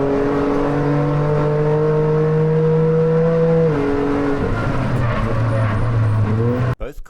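A Toyota GR Cup race car engine drones at high revs on track on the last lap, a loud steady tone that drops as the driver shifts, with other cars nearby, before a sudden cut at the end.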